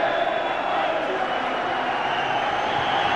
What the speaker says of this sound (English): listen to the acclaim for Lennon from the Celtic supporters